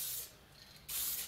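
Epoxy primer sprayed onto a car body during rust hole repair: two close, loud hissing bursts separated by a short pause, with no talking.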